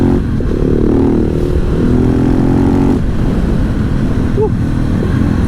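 A 2015 KTM SMC 690R single-cylinder motorcycle engine roars loud and close while riding, with rising pitch through revs, a gear change and heavy wind buffeting throughout.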